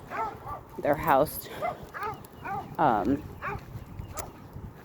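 A small dog barks and yips repeatedly nearby while a person talks over it.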